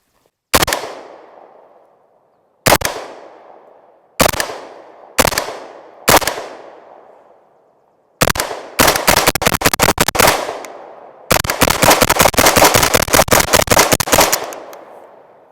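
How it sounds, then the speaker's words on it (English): AK-74 rifle with an old Arsenal trigger being fired: five loud, separate single shots ring out with echoing tails, followed by two rapid bursts of fire. "Man, that shoots so nice. The recoil on that thing is incredible."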